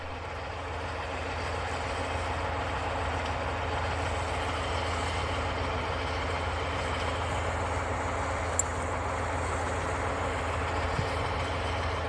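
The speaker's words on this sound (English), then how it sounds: "The truck continued pulling until the entire tractor had been dragged completely out of the river and onto solid ground." A truck engine drones steadily while pulling a tractor out of a frozen glacial river in extreme winter conditions, a low continuous rumble with one brief sharp click partway through and no voices.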